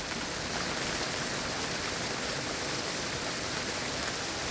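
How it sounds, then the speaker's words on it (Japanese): Rain falls in a steady, dense hiss with no break, heard as the soundtrack of a home planetarium projector movie, loud and even throughout with no voices. "恵みの雨。"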